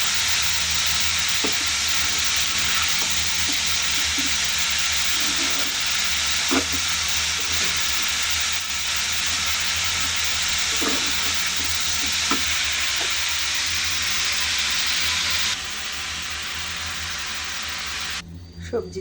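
Mixed vegetables of various colours fry and get stirred in a pan, giving a steady close hiss and sizzle with occasional scraping clinks, fairly loud, with no one talking.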